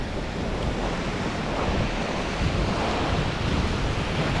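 Sea waves wash continuously onto a beach in Japan, a dense, close surf roar mixed with wind buffeting the microphone, with no voices.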